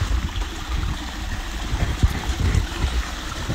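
Steady, close trickle and splash of water spilling down a small backyard waterfall built among ferns and rocks, a continuous gurgling wash heard alone without talk.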